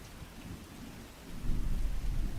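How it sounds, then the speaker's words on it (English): Rain and rolling thunder layered over a rainy-mood version of a jazz song, a steady wash of falling rain with a deep rumble that swells louder in the second half; no one speaks. "So essentially it had rain sounds on it."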